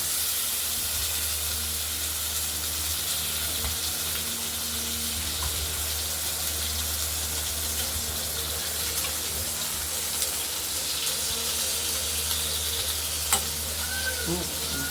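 Paneer parcels wrapped in bottle gourd leaves fry in a pan with a constant close sizzle and hiss, occasional faint scrapes of stirring and a brief clink near the end, without talk.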